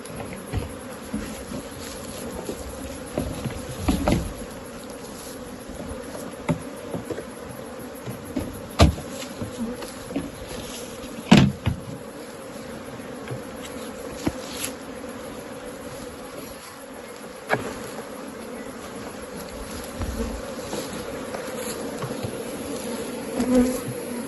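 Honeybees hum and buzz around a hive frame pulled out during honey extraction, a steady dense drone close by with occasional sharper clicks and knocks over it.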